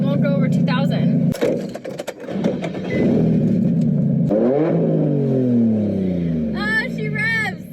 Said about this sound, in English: She revs.